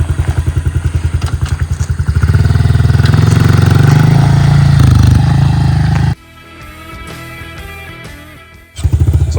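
A Honda CRF110 dirt bike fitted with a big wheel kit runs loud and close, its engine rattling in fast pulses, revving up hard for several seconds, then dropping to a quieter idle before rising again.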